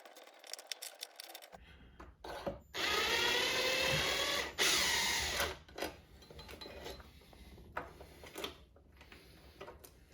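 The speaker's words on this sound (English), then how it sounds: "There's a couple screws up here you can see. I'm just going to get the driver on those." A power driver backs screws out of window blind brackets in a bathroom-style home upgrade, heard as two sustained whirring bursts close by, surrounded by clicks, rattles and handling noises, with no talking.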